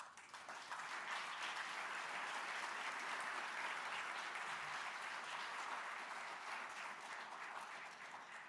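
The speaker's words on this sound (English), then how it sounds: "if you could give her a round of applause." An audience at a conference gathering gives a dancer a round of applause, with dense, even clapping from the whole room that holds steady for about eight seconds with no talking.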